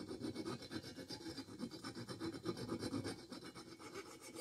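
Metal file rasping a burr off the cylinder head of a Kohler Courage engine from a Cub Cadet LTX 1045 lawn tractor, a steady run of close, rhythmic scraping strokes with no voices.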